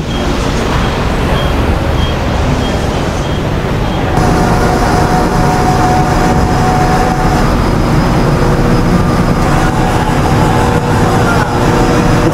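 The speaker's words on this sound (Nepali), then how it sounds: "अब चाहिँ म फेरीमा चढ्नु जाँदैछु" On board a ferry, a loud steady engine and hull rumble fills the cabin throughout, with a thin mechanical whine and a shift in tone partway through, no clear talk.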